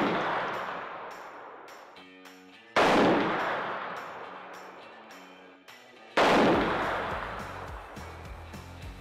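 Three loud, close shots from a Traditions NitroFire muzzleloader fitted with a muzzle brake, each a sharp blast with a long decaying echo, spaced about three seconds apart.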